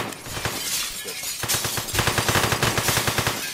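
Rapid gunfire from SWAT officers in the video game One Armed Robber, with scattered shots early and a dense, steady burst of automatic fire in the second half, loud and close.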